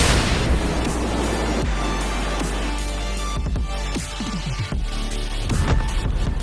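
Explosion in the video game Wuthering Waves: a loud, sustained rumbling roar with heavy low-end booming and crackling bursts, continuous for several seconds, with no voices over it.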